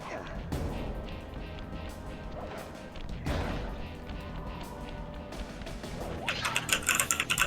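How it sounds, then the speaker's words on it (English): Rapid, busy keyboard typing clatters along under a steady background hum in the video game Sly Cooper, growing denser and sharper toward the end. "Furious typing."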